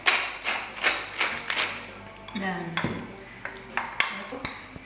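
Calamari stuffing being stirred with egg, salt and pepper in a bowl, a run of rhythmic clinks and taps of utensil against the dish, then scraping and a few sharper knocks, close and clear.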